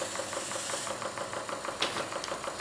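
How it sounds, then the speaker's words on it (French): A small Murdoch flash steam engine runs off a gas burner, giving a fast, even mechanical chuffing and knocking beat, close and fairly loud, with no talking. "on allume le brûleur à gaz et la vapeur va se former instantanément en flash steam et aller actionner le moteur"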